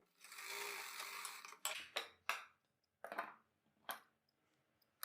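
A sewing machine runs in a steady whirring burst while stitching a salwar belt, then gives way to a few short clicks and handling knocks, close and fairly quiet.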